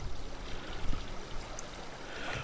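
Spring water trickles and babbles steadily where it feeds into a creek at the source of the Current River. The flow is heard up close with no talk.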